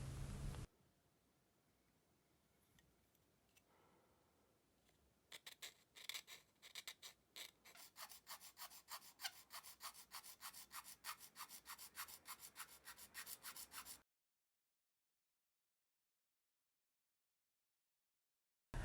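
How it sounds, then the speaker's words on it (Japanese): A half-round file rasping on a Mini 4WD plastic part, quick steady back-and-forth strokes close up, starting after a quiet stretch and stopping abruptly. "こんな感じで半丸型のヤスリを合わせるだけで綺麗なカーブが作れます。"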